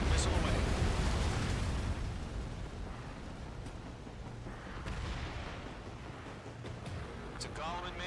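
In the combat flight game Ace Combat 7, a missile launch and explosions roar as a loud, dense rumble that slowly fades, with a radio voice and small pops and whooshes in the background.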